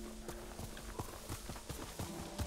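Horse hooves clip-clop in a steady trotting rhythm in the video game Ghost of Tsushima, quiet and close, over a faint sustained tone.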